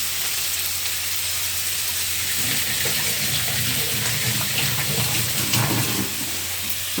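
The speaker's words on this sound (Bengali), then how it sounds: "তা হাতটা একটু ধুয়ে নিই।" Hands are washed under a running kitchen tap while fish curry is being cooked. A steady hiss of flowing water carries irregular splashes and patters midway, with no voices.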